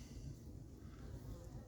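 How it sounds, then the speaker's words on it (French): A single bee buzzes inside a hive box at an apiary, a faint, steady, low drone that carries on without a break. "Au fond, une abeille qui finira par sortir."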